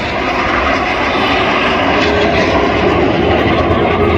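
Frecce Tricolori aerobatic jets fly in formation at an Airpower airshow, a loud continuous roar of jet engines that stays steady and heavy for several seconds with no voices.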